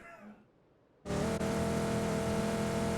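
After a quiet second, a loud car engine in PUBG starts droning steadily up close, a constant humming roar that continues to the end.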